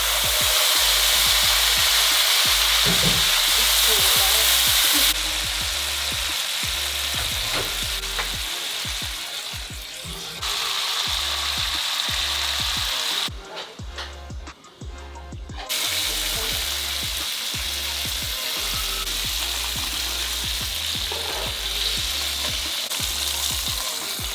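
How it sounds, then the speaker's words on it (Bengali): A large steak fries in butter in a hot pan, giving a loud, continuous sizzle broken by a few abrupt cuts and a brief quieter stretch midway. "এখন বাটার দেওয়ার পালা এখন বড় স্টেক পিসটা দিয়ে দিচ্ছি"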